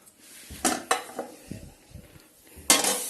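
Pulao is served from a pot: a metal spoon clanks and scrapes against cookware in a few irregular knocks, ending in a louder clatter, with quiet scooping sounds in between.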